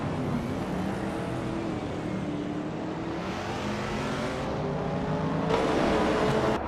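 A classic 1979 BMW M1 race car at the Red Bull Ring GP in a racing video game, its engine droning steadily and loudly with rising revs and a sharper burst of acceleration near the end, with no talking.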